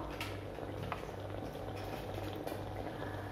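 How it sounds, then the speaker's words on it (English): Water heated in a classroom science demonstration boils in a quiet, continuous bubbling and gurgling, with a faint low rumble beneath. "The water changes into water vapors by heating."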